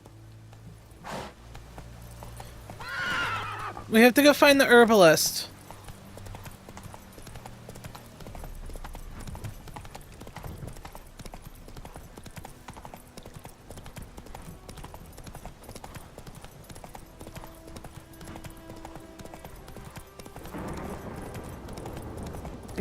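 Roach, Geralt's horse in The Witcher video game, clip-clops in a brief loud burst of hoofbeats, then gameplay ambience continues under a short spoken line.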